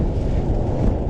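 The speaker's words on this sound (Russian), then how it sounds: "Вот такой вот ветер, друзья" Strong, gusty wind buffets the microphone on a frozen lake during ice fishing, a loud continuous low roar with no voices.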